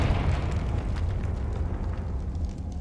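A Confringo spell detonates in Hogwarts Legacy, a loud rumbling explosion whose booming roar decays over a few seconds.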